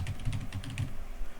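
Quick typing on a computer keyboard while creating a batch file, a short burst of close, light key clicks in an uneven rhythm with no speech.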